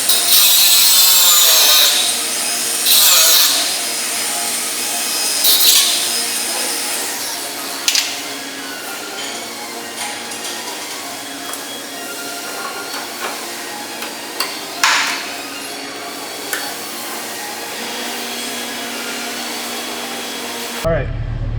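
A power cutting tool grinds through the lower torque box sheet metal of a car behind the seat bracket, a loud continuous high-pitched cut with scattered metallic clanks and knocks.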